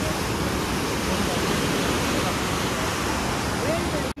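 Rushing water of the Ganges river at Haridwar, a loud, steady roar of flowing water filling the whole stretch close by, with voices faintly mixed in.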